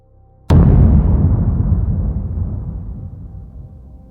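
A single huge explosion, the Big Bang forming the solar system, booms suddenly after a brief quiet, then a deep rumbling roar slowly fades away over several seconds.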